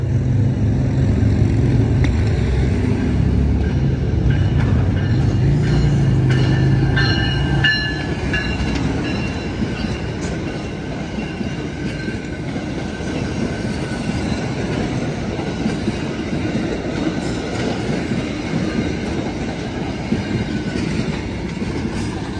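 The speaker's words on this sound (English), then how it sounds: "this train is now pulling off at Emeryville Station" Amtrak San Joaquin passenger train pulling out of Emeryville station, a steady loud rumble of rolling railcars with clickety-clack wheel noise and faint squeals, heavier low engine drone in the first seconds easing as it moves off.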